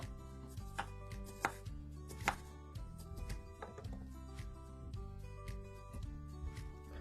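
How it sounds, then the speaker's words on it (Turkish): A knife cuts unsprayed natural lemons into rings on a board, with several crisp chopping knocks at an irregular pace over faint background music, no voices. "ilaçsız doğal limonu halkalar halinde keselim ve orta boy bir kavanoza koyalım"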